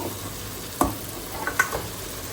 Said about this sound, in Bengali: আলুগুলো ভাজি হলেই দিয়ে দিব এই যে আলুগুলো ভাজা ভাজা হয়ে গেলেই দিয়ে দিব